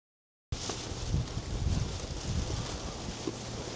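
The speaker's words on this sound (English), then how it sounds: "It's a bit windy today." Wind buffets an arctic stone-laying job site set up with scaffolding and a top cover, a faint, steady rushing and rumbling with gusty swells after a brief silence.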